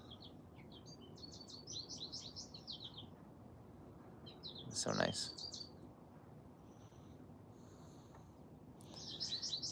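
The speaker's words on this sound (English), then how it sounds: "Can you hear the birds?" Birds chirp in short bursts of bright tweets against soft outdoor background noise, while a person speaks briefly midway.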